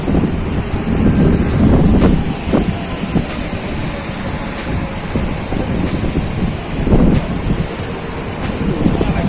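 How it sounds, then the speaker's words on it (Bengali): Rough sea surf at Digha roaring and crashing in repeated surges after rain, loud and close, with gusty wind buffeting the microphone. "সমুদ্র উত্তাল, কি জোরে আওয়াজ হচ্ছে।"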